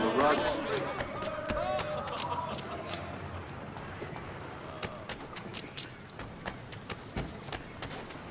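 Horses trotting in the Assassin's Creed 3 video game, rhythmic hoof clip-clops over a city ambience with scattered voices, moderately loud and steady.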